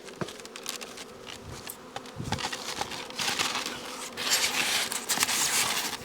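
Honey bees buzz around close by, a swelling, uneven drone that grows louder toward the end, with scattered small taps and rustles.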